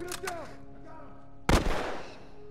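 Gunfire in The Last of Us, with one sharp, loud shot cracking out close and ringing off after a brief stretch of quieter game sounds, and a voice audible early on.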